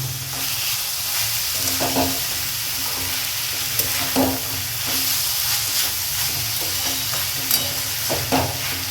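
Mixed vegetables with tomatoes and capsicum sautéing for homemade pav bhaji, a constant close sizzle broken by repeated spoon scrapes and knocks against the pan every second or two, no one talking.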